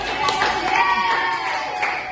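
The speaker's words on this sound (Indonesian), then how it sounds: "Oke, tepuk tangannya dulu dong." Schoolchildren in a seventh-grade civics class clap their hands together, a brief, moderately loud patter of many hands mixed with bright voices and chatter in the room.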